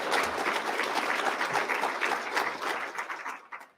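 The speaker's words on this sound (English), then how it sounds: "you give yourself a round of applause" Audience applause fills a school district address in Copperas Cove, a dense, steady wash of many hands clapping throughout before tapering off at the very end.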